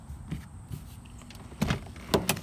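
A damaged car door on a Mercedes 300D being forced open, with a few scattered clunks and scrapes leading to louder sharp metallic knocks and a final rattling thud near the end, close by.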